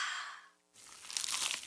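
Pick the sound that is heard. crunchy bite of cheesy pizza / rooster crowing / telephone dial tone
crunchy bite of cheesy pizza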